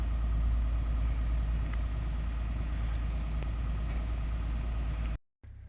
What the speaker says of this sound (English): here comes Matt with the trailer and quad